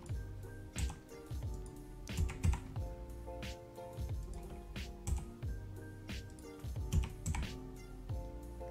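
Computer keyboard keys pressed during 3D modeling in Blender 2.8, a steady run of close, crisp clicks and taps in an irregular rhythm, with no talking.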